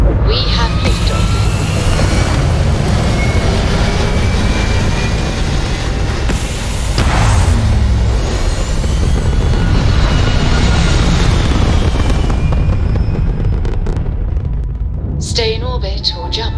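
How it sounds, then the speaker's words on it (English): A spaceship lifts off in Starfield with a loud, sustained, rumbling roar that holds for many seconds, then thins out and fades, leaving brief higher tonal whooshes at the end. "We have liftoff."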